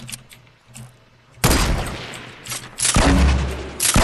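Gunfire in Fortnite erupts in loud, dense bursts after a quieter opening, with sustained volleys and a heavy blast near the end, close and with no speech.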